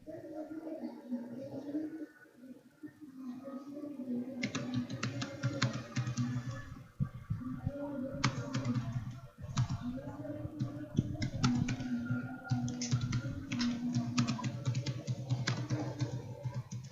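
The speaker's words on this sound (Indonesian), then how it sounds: "lagi ngetik lama" Someone types on a computer keyboard in rapid bursts of clicking keystrokes with short pauses between runs. A low background hum runs underneath, and there is no clear talking.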